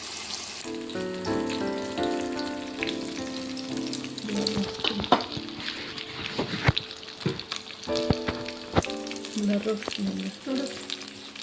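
Long, fairly thick brinjals fry in hot oil with a steady, close sizzle, broken by sharp clacks and scrapes of stirring, while a melodic tune plays softly in the background.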